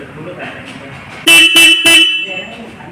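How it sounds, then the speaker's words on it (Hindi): Horn of a 2024 Royal Enfield Meteor 350 motorcycle honked three times in close succession, loud, close and buzzing, each toot short, over a quiet background. "बाकी इसके हॉर्न को मैं एक बार आपको चेकआउट करके दिखा देता हूँ।"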